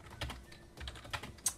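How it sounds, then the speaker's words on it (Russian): Soft, fast computer keyboard typing while playing Tanki Online, with irregular clicks of the keys, quiet and close, with no talking. "звуки клавиатуры еще не очень сильно слышны"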